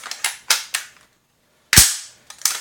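Bushmaster ACR rifle's bolt release lets the bolt snap forward in one loud, sharp metallic clack, preceded by several lighter clicks and handling knocks, with a couple of quick clicks after.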